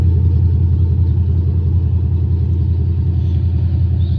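Pontiac G8 GT V8 fitted with new headers and a full exhaust, running at a steady idle with a loud, deep, even rumble close by and no talking.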